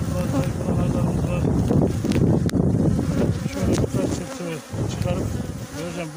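Dense buzzing of many honey bees at a hive's second box during inspection, close to the microphone, a continuous humming drone with occasional louder passes and light handling noise.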